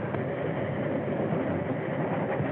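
A train rolls steadily along the rails in a continuous, close rumbling drone with no distinct breaks, loud and even throughout with no talk.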